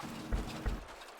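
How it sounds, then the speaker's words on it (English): Two soft, muffled footfalls thud in a ghost-themed video game, Greta Sees Ghosts, spaced about a third of a second apart over a low, steady background hum. "So what about these footsteps?"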